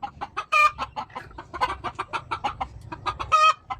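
A flock of chickens clucks nearby in quick, choppy bursts, with two louder squawking cries standing out.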